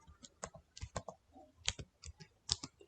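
Clicky typing on a computer keyboard, irregular bursts of keystrokes close to the microphone and fairly quiet, with no voice.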